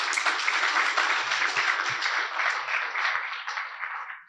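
Audience at an IEEE conference session giving a round of applause, a continuous, even clatter of many hands filling the room, fairly soft and unbroken, with no talk over it.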